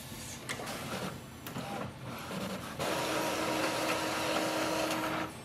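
Epson WF-2850 inkjet printer printing a nozzle check page: a series of mechanical clicks and whirs as paper feeds, then a steady, close grinding hum as the print head moves.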